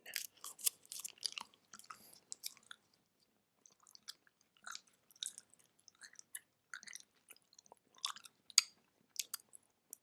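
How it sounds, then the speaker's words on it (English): Close, intimate gum chewing in an ASMR setting: wet, crackling, squishy chews in irregular bursts separated by short silences, soft and very near with no talking. "we're going to be chewing on some gum."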